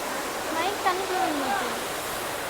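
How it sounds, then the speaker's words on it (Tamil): Rushing water at Hogenakkal falls, a steady loud broadband roar filling the whole clip, with people talking over it nearby. "ஒகேனக்கலோட ஸ்பெஷலே இதுதாங்க மெயினான ஸ்பெஷல் ஃபால்ஸ்"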